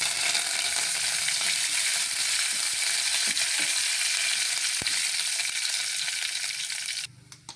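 Curry leaves crackle and sizzle in hot oil for tempering on a low flame while coconut chutney is being made, a continuous close hiss with small pops that stops suddenly near the end.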